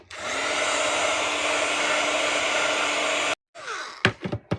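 A heat gun drying a freshly painted craft layer roars steadily and loudly up close for several seconds, then stops suddenly, followed by a short whirring spin-down and a few sharp handling knocks.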